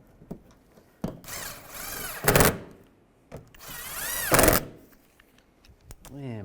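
A power tool drives bolts into the inner fender of a 2015-2020 Cadillac Escalade in two whirring bursts of about a second each, between clicks and handling noises, with a short rising whir at the end.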